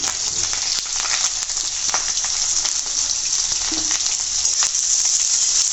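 Chopped onions fry in a pan for a dried fish bhuna with green tomato, making a steady, close, bright sizzle that continues without a break, with faint stirring scrapes now and then.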